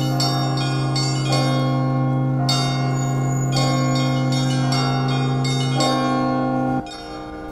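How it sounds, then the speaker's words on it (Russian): Church bells ring out a special festive peal for the Epiphany great blessing of the waters in Barnaul, loud and continuous, with layered strikes over sustained humming tones that cut off just before the end. "Особый водосвятный перезвон."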